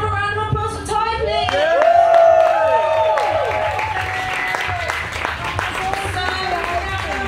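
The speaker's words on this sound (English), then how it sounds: "Can we have another round of applause for Tyde, please?" Festival crowd at Shambala 2013 cheers and applauds a live act, with whoops and voices over the clapping, loud and close throughout.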